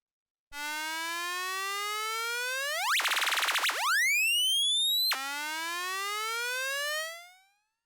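An Arturia MicroFreak synth tone rises in pitch repeatedly under a cycling envelope: a bright buzzy note sweeps upward, breaks into a brief fluttering burst, glides up again, then slides steadily before fading out.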